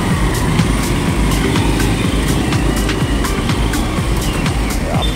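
Road traffic heard from a motorcycle on a Sunday ride, a loud continuous engine and wind roar with passing vehicles, steady rumble throughout and no clear voices.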